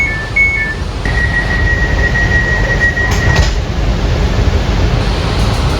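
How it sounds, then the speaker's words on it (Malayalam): Automatic sliding doors of a Namo Bharat semi high-speed rapid rail train in India open and close with a soft mechanical slide, with a short electronic chime tone in a steady carriage and platform hum, no talk. "ഡോർ ഇപ്പോൾ തുറക്കും കേട്ടോ. ഓട്ടോമാറ്റിക് ഡോറാണ്."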